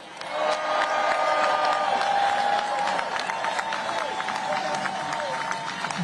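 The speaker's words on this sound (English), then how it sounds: "Would you cheer for the people who work around you?" A crowd at a union-led Labor Day protest cheers and claps for labor workers, a steady, moderately distant roar of voices and scattered applause lasting several seconds.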